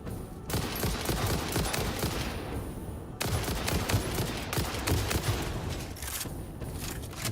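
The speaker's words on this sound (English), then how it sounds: "Did you shoot me?" Sustained automatic gunfire from the factory-building video game Satisfactory rattles in rapid dense bursts, loud and close, with a brief gap before the firing resumes.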